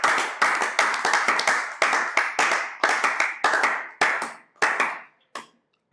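A congregation claps hands in praise during a prayer service, with sharp, reverberant claps in an uneven rhythm that thin out and stop near the end.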